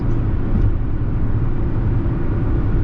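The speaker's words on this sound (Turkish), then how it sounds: "motorun sesi de çokça geliyor dostlar" Loud, constant engine drone and tire roar from a 2023 Fiat Egea 1.4 Fire 95 HP at about 100 km/h and 3000 rpm, a dense low rumble that holds steady with no pauses.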